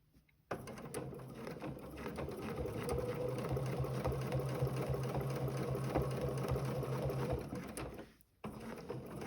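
A sewing machine stitches a serpentine line across a placemat, its needle chattering in a fast steady whir for about seven seconds before stopping abruptly, close and alone.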